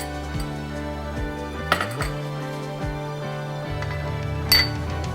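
Spoon clinking and scraping against a bowl while coconut flour, salt, egg and vinegar are stirred together, with a few sharper clinks over steady mixing noise, close and fairly loud.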